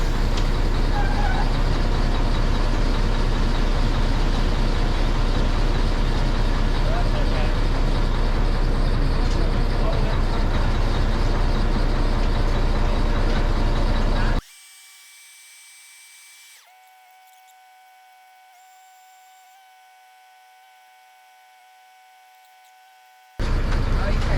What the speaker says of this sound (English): Truck number 2